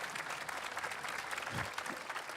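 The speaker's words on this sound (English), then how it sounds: "I think a big round of applause for Neil." An audience at an IMWorld 2017 talk gives a steady, full round of applause for Neil Harbisson, the dense clapping filling the room throughout.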